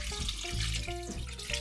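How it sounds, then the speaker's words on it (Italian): Water poured into a pot holding stockfish, tomato, celery, onion, carrot and parsley, a close gushing, splashing pour from a tap or jug that wavers in strength over a couple of seconds. "Adesso ci vado ad aggiungere l'acqua"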